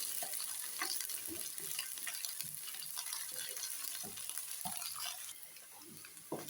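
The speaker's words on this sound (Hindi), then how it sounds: "अब हम इसमें डालेंगे अदरक लहसुन का पेस्ट 1 टेबल स्पून और इसकी रॉ स्मेल खत्म होने तक इसको अच्छी तरह से भून लेंगे।" Ginger garlic paste frying with golden onions in a pan for gobi kofta gravy, a steady close sizzle with scraping stirring strokes throughout and no voices.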